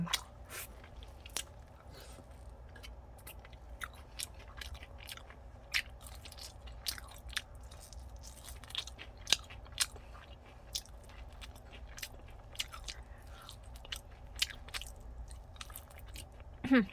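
Crispy fried chicken coated in a sweet latte glaze being bitten and chewed up close, with many sharp crunches and wet chewing sounds in an irregular rhythm over a quiet room.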